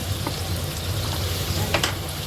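Chili powder fries in hot oil for kaima sambar with a steady, close sizzle and crackle. A few sharp clicks of a spoon against the pan cut through it.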